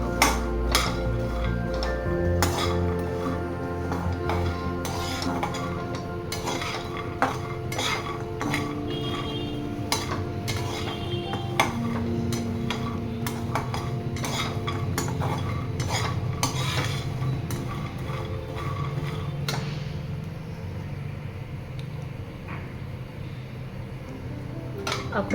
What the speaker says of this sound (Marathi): अक्रोड सुद्धा थोडासा हलका रंग चेंज होईपर्यंत भाजून घेऊया।